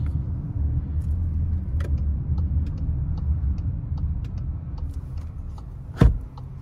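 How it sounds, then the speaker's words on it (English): Car interior while driving in Houston traffic, a steady low engine and road rumble with faint ticking clicks and a sharp knock near the end, no talking. "This is Houston traffic for you guys."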